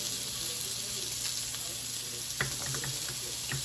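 Korean food fries on a grill with a steady, close hiss and crackle, a few faint clinks and taps standing out near the end.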